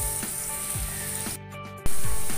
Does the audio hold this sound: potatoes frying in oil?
yes